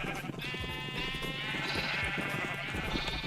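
Minecraft sheep bleat in a steady, wavering stream of nasal baas that overlap over a few seconds, sounding close against a busy background.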